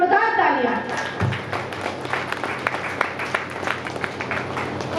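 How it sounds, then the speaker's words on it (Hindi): Audience applause at a Hindi poetry gathering (kavi sammelan), scattered claps building over speech-like crowd noise after the host calls for loud clapping, steady and moderately loud throughout. "काव्या पटेल शालिनी जी, जोरदार तालियां।"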